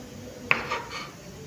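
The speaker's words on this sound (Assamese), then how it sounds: "আৰু এয়া মই পনীৰখিনি ধুনীয়াকৈ কাটি লওঁ" A knife slices through a block of paneer on a board, giving one sharp tap followed by a short, soft scraping stroke, close and fairly quiet, with no talk.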